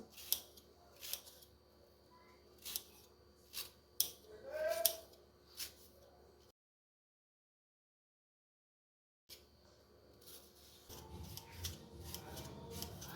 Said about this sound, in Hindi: तो अब इसको काट लेना है इस तरह करके ना, ये काट लेंगे चौकोर पीस।